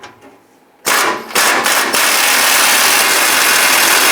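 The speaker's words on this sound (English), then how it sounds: "we want to loosen and remove these two bolts" Ratcheting socket wrench works loose a rusty rear bumper bolt on a 2002-2008 Dodge Ram 1500, starting after a near-silent pause with a couple of sharp metallic bursts, then a steady, loud, close clatter.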